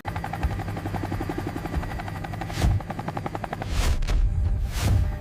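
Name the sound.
helicopter lifting off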